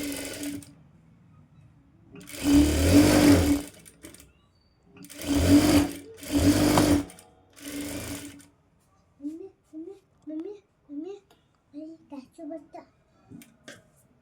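A sewing machine stitches the neck of a golden blouse in several loud bursts of whirring, separated by pauses, with a voice talking between and after the runs.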